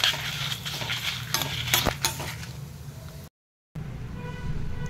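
Toor dal and dried red chillies roasting in a pan with a pinch of asafoetida, stirred with a metal spoon: scraping and clinking against the pan for a few seconds, then a short gap before the stirring resumes.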